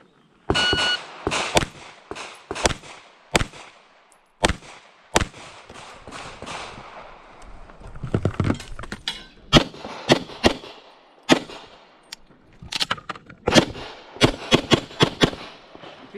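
Pistol shots fired during an IDPA shooting competition stage, sharp close cracks in quick strings and doubles spread across the stage, with pauses, faint movement and clatter between bursts.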